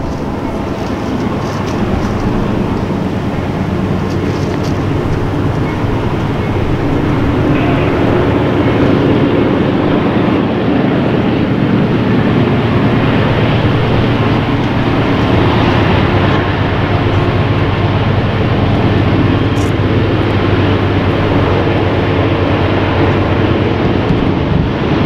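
Norfolk Southern train 509 rolls past with locomotive 4072 leading, a loud, steady rumble of engine and rail noise that holds for the full length without letup.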